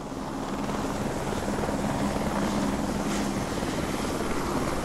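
A helicopter landing on an offshore helideck: a steady rotor drone with a low rhythmic chop, continuous and fairly loud throughout, with no voices.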